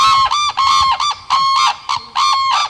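Cranes give loud, close trumpeting calls in a rapid series of repeated honking bursts with short gaps between them, with no talking over them.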